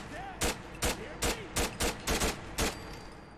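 About eight sharp bullpup rifle shots from Fallout 4 crack out in uneven single and double bursts, each a loud broadband snap over a quiet, low background.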